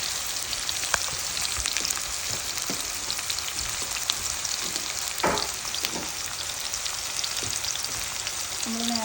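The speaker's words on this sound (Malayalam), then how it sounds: "എണ്ണ പൊട്ടി തെറിക്കാതിരിക്കും നമുക്ക് ആദ്യം കുറച്ച് സബോള ഇട്ട് കൊടുക്കാം" Sliced onions frying in hot oil in a pan, a steady soft sizzle with scattered pops and crackles, close and fairly quiet, with no talking.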